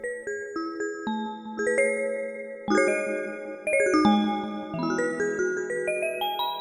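A bell-like additive synthesis patch on a Behringer DeepMind 12 synthesizer rings out in overlapping chimes and chords, struck in several clear rhythmic groups with long shimmering tails, close and alone.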